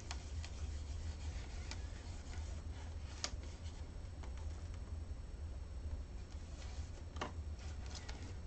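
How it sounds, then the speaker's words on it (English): Gilding foil flakes being rubbed into adhesive tape by hand, giving a soft continuous rasping and rubbing close up, with a few sharp ticks over a low background hum and no speech. "Gonna rub that foil into the tape."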